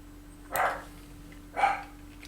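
Two short dog barks from some distance away, about a second apart, faint over a steady electrical hum.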